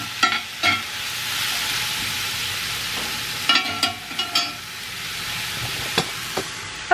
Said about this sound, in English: throw them into a cast iron pan here.